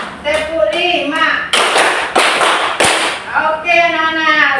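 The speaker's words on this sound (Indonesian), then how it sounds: "Tepuk 1, tepuk 2, tepuk 3, tepuk 4, tepuk 5." A school class clapping a counted rhythm, with sharp group claps in short bursts, the strokes growing in number, alternating with a teacher and children chanting the count aloud.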